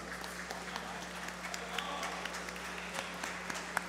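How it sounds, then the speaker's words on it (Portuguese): Applause fills a municipal council plenary session, heard as faint, distant clapping spread across the chamber with a low steady hum and some murmuring voices beneath. "uma salva de palmas"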